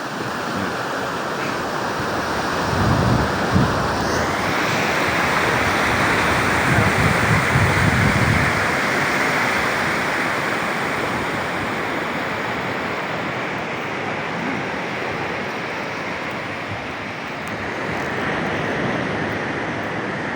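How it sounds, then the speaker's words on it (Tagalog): A calm sea laps and washes steadily along the shore at Santa Cruz, Barahan, Occidental Mindoro, a broad, continuous hiss of gentle surf that swells slightly now and then, with no voices. "Kalmadang dagat."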